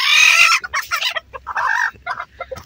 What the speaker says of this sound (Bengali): দেখেন আমার 3টা মুরগি কুচে আসছে।